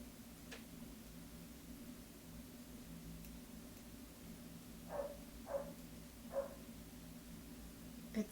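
A neighbor's dog barks three times in quick succession, faint and muffled as if heard through the walls of a house, over a steady low background hum.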